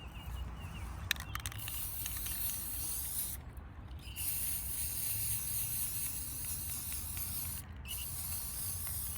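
A spray paint can hisses in long steady bursts, with two brief pauses between sprays, close and fairly quiet with no talking.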